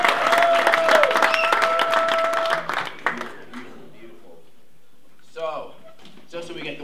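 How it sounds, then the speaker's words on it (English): Crowd applause at a gathering, a dense burst of clapping for about three seconds that stops abruptly, followed by quieter room sound and a few scattered voices. "I want to give a nice round of applause for all you guys for really making us happy"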